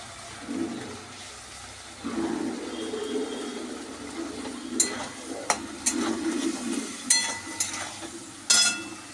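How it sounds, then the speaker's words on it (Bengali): Cauliflower, potato, carrot and soybean chunks frying and being stirred with biryani spices in a pan for veg biryani: a steady sizzle broken by sharp, clattering scrapes of the spoon toward the end. "আলু গাজর ফুলকপি মশলার সাথে সুন্দর করে কষিয়ে নেব"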